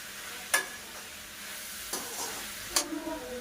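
Potato and capsicum curry being stirred in a pan with ground green chilli, giving a few distinct scraping strokes over a faint, steady sizzle, close and quiet, with no talking.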